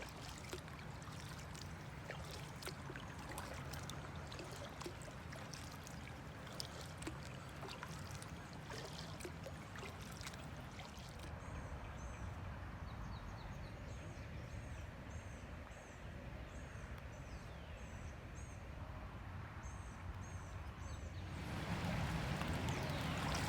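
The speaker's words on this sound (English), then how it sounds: "What I'm doing now is I'm alternating paddling, left and right." Kayak paddle strokes alternating left and right on a river along the bank, steady rhythmic splashing and gurgling water close by, with faint birdsong in the background.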